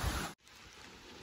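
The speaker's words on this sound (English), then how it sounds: "it's starting to rain" Rain falls on a hiking trail along the Appalachian Trail, a steady soft hiss of drops continuing after a brief dropout, fairly faint and even with no voices.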